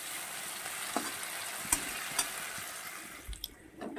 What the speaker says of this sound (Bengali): সুন্দর করে আলুটা দিয়েও কষিয়ে নিয়েছি তেল ছেড়ে দিয়েছে